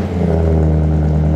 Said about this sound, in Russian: Запускай! Холодный пуск.